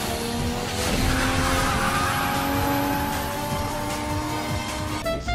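A vehicle in PUBG accelerates hard on nitro boost, a loud, steady engine roar with rising whine that holds for several seconds, with a brief rougher burst near the end.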